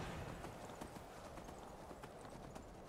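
A horse's hooves clop in a quick, uneven run of hits as the mount climbs a rocky mountain ledge in Skyrim, the game world quiet and faint beneath, with no voices.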